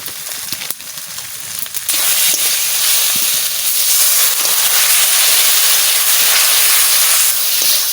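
Dried fish curry with turmeric, salt and chili, plus potato and eggplant, being sautéed in a pan gives a loud, continuous hissing sizzle that jumps up sharply after a quieter opening few seconds.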